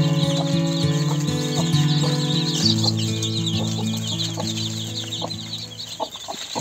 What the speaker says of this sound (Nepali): अहिले चल्लाहरू चाहिँ चारो पानी खाँदैछ।